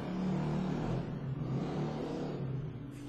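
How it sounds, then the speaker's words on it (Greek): A small motorbike passes close by on a street, a steady loud engine drone with a broad rumbling noise that fills the whole moment and swells slightly as it goes. "Συγγνώμη, σε ενοχλώ, το μηχανάκι."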